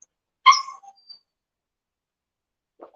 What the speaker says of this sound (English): So I've got a dog staring at me, whining at me.